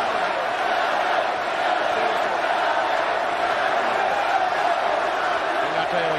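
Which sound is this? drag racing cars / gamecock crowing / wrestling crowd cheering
wrestling crowd cheering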